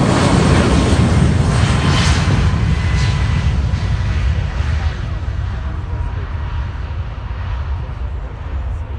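Airbus A321 jet taking off at an air show, a loud, steady roar of jet engines with deep rumble that stays strong throughout and eases slightly toward the end, with speech over it.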